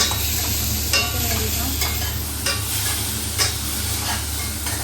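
Onion, tomatoes and capsicum fry in a pan with steady close sizzling and occasional stirring scrapes, a dense continuous crackle with no talking.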